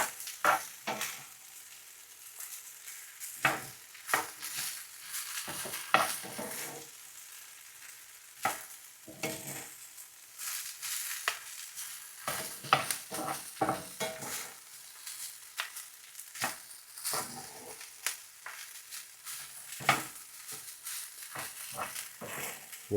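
A spatula stirs and scrapes rice through hot oil in a pan for restaurant-style fried rice, with soft sizzling underneath and irregular bursts of scraping and tossing, no voices.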